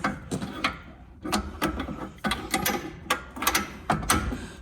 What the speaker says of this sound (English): because I'm going to need to tighten up that bolt to 125 foot-pounds of torque